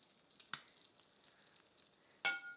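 Crab cakes frying in bacon fat, a soft continuous sizzle broken by two sharp, close spattering pops, one early and one louder near the end.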